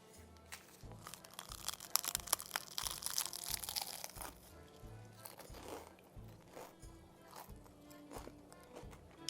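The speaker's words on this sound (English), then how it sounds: "I want you to hear how crispy these are." Freshly baked spanakopita triangles in crisp filo pastry are broken and bitten, giving a run of close, sharp crunches and flaky crackles that repeat irregularly, with no talking.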